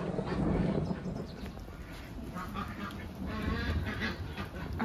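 Ducks on a flooded garden smallholding quack in a busy, overlapping chorus at moderate distance, a steady jumble of calls over about five seconds with no talking.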